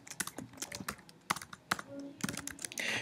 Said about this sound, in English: I'm going to type in Dylan Thomas